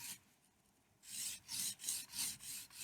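A knife blade drawn across a fine sharpening stone, quiet at first, then five rhythmic close-up rasping strokes in quick succession.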